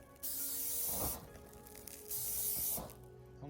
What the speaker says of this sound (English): So I'll just hit these with some of the butter flavored Pam.